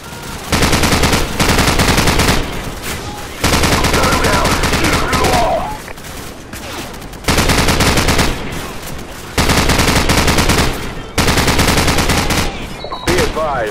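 Loud, close bursts of machine gun fire in the Call of Duty 4 video game, the Bog level, with long rattling volleys broken by short pauses over the battle din.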